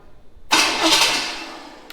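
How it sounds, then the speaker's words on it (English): A small block Chevy engine fitted with a 671 blower cranks with a sudden loud whirring burst of the starter that fades over about a second and a half, without catching. "Of course, engine start."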